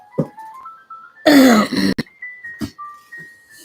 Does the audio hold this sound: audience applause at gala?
no